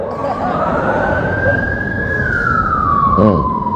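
An ambulance siren wails steadily as the vehicle passes, its tone rising slowly and then falling away, loud over a dense rumble of traffic and crowd noise with a brief voice near the end.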